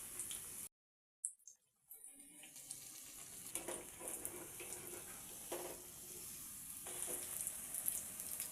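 Batter-dipped spinach leaf fritters (bajji) frying in hot oil in a kadai give a steady, close sizzle and hiss, broken by a short silence near the start, with faint kitchen clatter.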